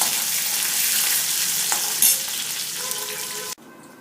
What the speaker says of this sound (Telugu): ఈ వేడివేడిగా పోపు ఉండడం వలన చక్కగా కరివేపాకు వేగిపోతుంది